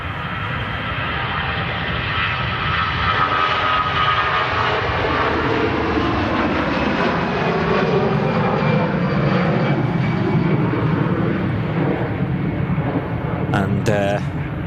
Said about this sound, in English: Austrian A320 on the takeoff roll from 23 right here at Manchester